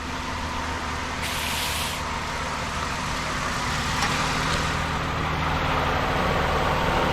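A 2015 Toyota Sienna engine idling right after an oil change, a steady, even drone that holds for several seconds, with a brief hiss early on; no talking.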